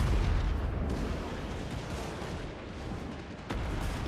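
Cannon fire from artillery in the fantasy strategy battle game Total War Warhammer 3, a dense rumbling barrage of booms that never settles into quiet, with a fresh heavy blast landing near the end.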